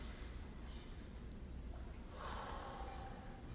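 A single deep, breathy inhale and exhale during a shoulder mobility and posture exercise, close and moderately loud over a steady low room hum, with no talking.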